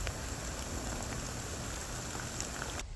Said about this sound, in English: A little bit of a rainy day